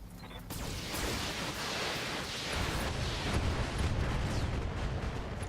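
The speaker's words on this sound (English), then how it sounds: "Oh, we got an ammo explosion, pilot in." Ammo explosion on a mech in the BattleTech video game: a broad rumbling blast that swells into a sustained noisy roar and crackle, heavy and close, with no talk.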